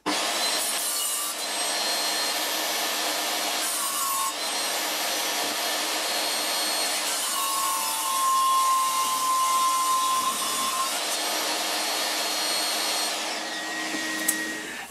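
A circular saw blade ripping through wood for a homemade pizza peel, a loud, steady, high whining cut that runs the whole time with slight shifts in pitch, no talking.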